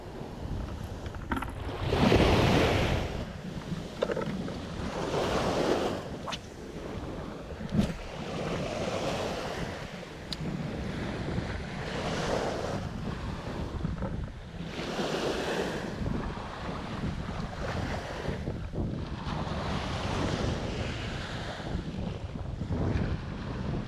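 Strong coastal wind buffets the microphone during shore squid fishing, with surf washing in behind it, a continuous roar that swells and eases in long gusts and carries no voices.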